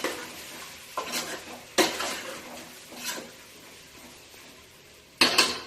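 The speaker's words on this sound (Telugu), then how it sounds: "ఇప్పుడు ఇందులో మనం టమాటా వేసుకుందాము. మంచిగా కలుపుకుందాము." Stirring tomato into chicken curry in a pan, a spoon scraping and clanking against the pan in a few separate bursts with quieter sizzling in between.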